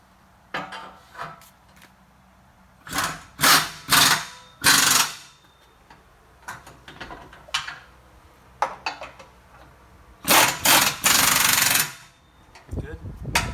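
Bolts being tightened during upgrades on a 2007 Jeep, with bursts of loud rattling impact-wrench hammering and clanking metal, separated by pauses, and people talking between them.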